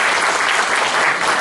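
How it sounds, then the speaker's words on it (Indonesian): Steady, dense applause from a church congregation, continuous and loud throughout with no pauses or voices over it. "Kita berikan tepuk tangan buat mereka."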